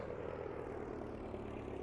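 An airplane engine in the Farming Simulator 22 editor gives a steady, even propeller drone, continuous and moderately loud, with no talking.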